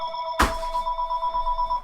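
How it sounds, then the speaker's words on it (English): Incoming call on a mobile phone: a sharp click, then a steady, pulsing electronic ringtone repeating in quick, even beats, close and clear with no talking over it. "my phone's ringing, and it's my mom."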